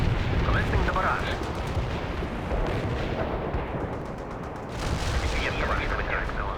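Continuous artillery barrage in the World in Conflict video game, a dense, loud rumble of blasts and gunfire rolling on throughout with no pauses.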